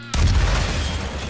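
Explosion from a DOOM weapon mod in Garry's Mod: a single loud, sudden boom that hits hard and then decays in a long rumbling tail, with no talk over it.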